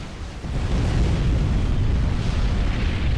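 A commander unit exploding in the real-time strategy game Supreme Commander: Forged Alliance during a 4v4 team match, a deep, heavy rumbling blast that rolls on steadily for several seconds without talk.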